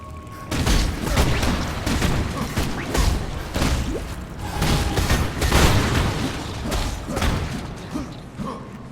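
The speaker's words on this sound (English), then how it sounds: "Exploding squids? No problem, I'll just run right through you." Exploding squids in the action RPG Path of Exile burst in a string of dull booms and thuds, repeated at irregular intervals amid busy combat noise, with some faint talk underneath.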